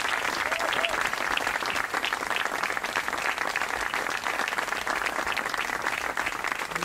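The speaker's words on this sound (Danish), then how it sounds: "så må I gerne klappe" An audience at an outdoor youth culture opening claps steadily and densely for several seconds, a continuous even wash of hands at moderate distance, with no voices over it.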